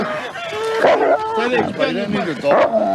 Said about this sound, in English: I've got a dog, mate.